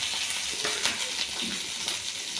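Mustard seeds, urad dal and curry leaves crackling and sizzling in hot oil in a South Indian tempering, a bright continuous hiss with scattered pops and small stirring scrapes.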